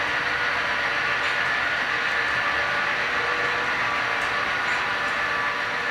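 Model railroad freight train with a caboose rolling down a layout helix, a steady, even mechanical rumble and rail hiss running continuously at moderate level without any talk.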